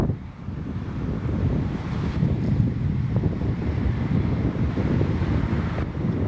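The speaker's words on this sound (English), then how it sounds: "The wind feels really good." Wind blows steadily across an open grassy outdoor setting, buffeting the microphone with a continuous loud rumble that holds through the whole stretch, with no voices.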